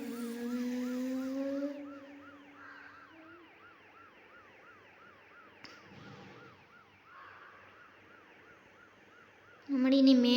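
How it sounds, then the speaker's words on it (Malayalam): Police car siren wailing in a steady rising-and-falling pattern, heard from inside a vehicle overtaking it on the road, loud at first then continuing at moderate level, with a brief louder burst at the end. "പോലീസ് വണ്ടി."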